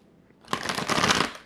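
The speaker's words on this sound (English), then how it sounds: "I'm going to give this a quick shuffle here" A quick riffle of a jumbo Rider-Waite tarot deck, a rapid fluttering rush lasting about a second after a short quiet start.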